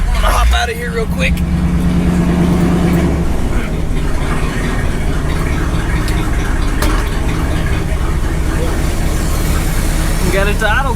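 An old project truck engine idles steadily up close, its low, lumpy rumble filling the whole stretch. Talk is faintly audible underneath.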